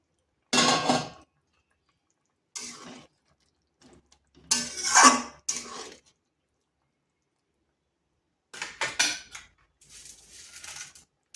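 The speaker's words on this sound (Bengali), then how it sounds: "এরপর এখানে দিয়ে দিচ্ছি ভেজে রাখা পটলগুলো" Fried pointed gourd pieces tipped into a pot of boiled lentils, a few separate bursts of clattering, splashing and utensil scraping with silent gaps between, close by and without talk.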